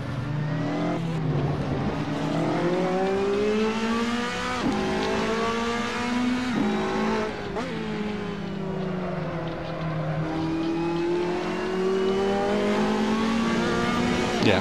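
Ferrari 458 GT2 race cars circling the Nürburgring in Assetto Corsa, a loud, steady engine howl that climbs and drops through gear shifts with brief lifts, running continuously throughout with no voices.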